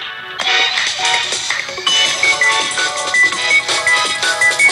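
A mobile phone ringtone plays as a bright, beeping electronic melody with repeating tonal notes, loud and alone without talk.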